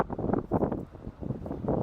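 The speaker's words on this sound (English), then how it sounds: "It's a little windy today." Wind rumbles against the microphone in uneven low gusts in a cemetery in New Galilee, Pennsylvania, rising and falling over a couple of seconds.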